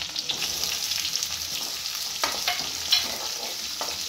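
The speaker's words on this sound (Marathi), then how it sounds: "त्याला थोडं हलवून घेते मी" Toor dal cooking in a pot is stirred, with a steady soft sizzle and bubbling and a few scraping strokes close by.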